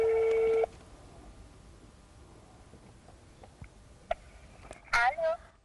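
A telephone call being placed: a loud steady tone at the start, then quiet line noise with faint clicks, followed by a burst of short dialing or ringback tones near the end, with no one talking over it.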